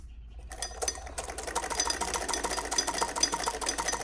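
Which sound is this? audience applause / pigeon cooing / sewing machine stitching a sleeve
sewing machine stitching a sleeve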